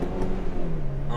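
Suzuki Swift Sport 136 engine blipping through a heel-and-toe downshift, a steady close rumble with slight revving over 1.2 seconds, no talk.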